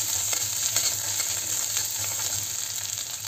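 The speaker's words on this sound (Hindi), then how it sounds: "अब इसमें एक छोटा चम्मच अदरक हरी मिर्च का पेस्ट डालेंगे, इसे भी हम मीडियम फ्लेम में सेक लेंगे दो से तीन बार चलाकर।" Ginger and green chili paste sizzles in a pan over medium flame and is stirred a few times, a steady close frying hiss with faint scraping from the spoon and no voices.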